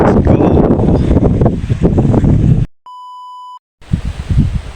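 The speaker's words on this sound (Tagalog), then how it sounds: "Malakas ang hangin, malakas ang hangin dito" Loud gusting wind buffets the microphone on an onion farm, then cuts off for a steady electronic beep before the roaring wind returns.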